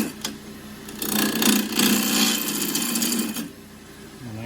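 A skew chisel takes a peeling cut on loquat wood spinning on a lathe, making a steady rasping, scraping hum that swells for a few seconds and then fades. No one speaks.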